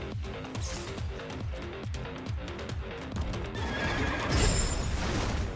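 A horse in the Stellar Blade video game whinnies loudly over the steady, rhythmic clip-clop of galloping hooves, with a louder, noisier burst toward the end.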